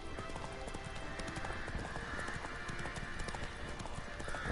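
Hooves of the horse Roach clopping at a gallop in The Witcher 3: Wild Hunt, a rapid continuous thudding rhythm that stays even throughout, with no talk.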